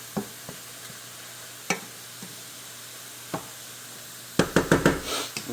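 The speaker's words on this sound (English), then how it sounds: "Just give them another stir, make sure everything's released its juice" A spoon stirs chanterelle mushrooms dry sautéing in a pan on a large burner near high heat: scattered light knocks and scrapes, then a burst of louder clattering stirring near the end.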